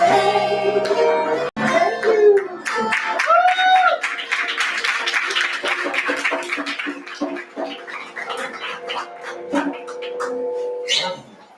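A small audience claps after a band's song in an intimate parlor venue, scattered moderate applause over a sung final note and voices, thinning out toward the end.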